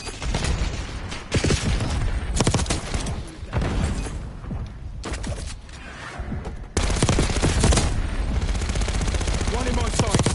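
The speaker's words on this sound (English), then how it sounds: "I'm gonna mount down there, and man, I'm about to set up a machine gun nest" Mounted machine gun in Black Ops 6 firing loud, dense bursts of automatic gunfire that stutter and pause, then resume in a sustained heavy stream near the end, with booming impacts underneath.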